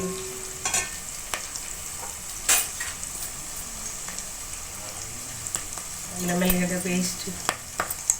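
Soft, steady sizzle of ginger garlic paste frying in a pan for Telangana fish pulusu, with occasional sharp clinks of a spoon stirring against the pot and a brief louder bubbling toward the end.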